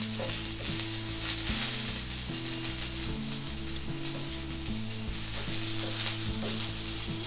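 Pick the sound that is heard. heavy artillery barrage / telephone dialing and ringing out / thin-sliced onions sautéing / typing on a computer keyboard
thin-sliced onions sautéing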